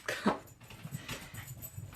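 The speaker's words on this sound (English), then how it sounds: "my dog apparently is attacking something. He's very ferocious, let me tell you, my little Maltese poodle." A small Maltese poodle indoors gives a couple of sharp yips followed by faint whimpering and snuffling, close by, with no talk.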